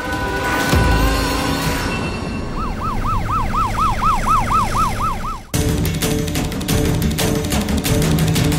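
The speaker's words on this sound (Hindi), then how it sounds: "एम्बुलेंस!" An ambulance siren rises and falls in a rapid, repeating wail over a busy, noisy background in a dramatic emergency scene; the wail cuts off abruptly partway through as the noise continues.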